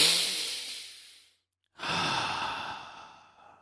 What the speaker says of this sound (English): Take a long deep breath and focus on your breathing.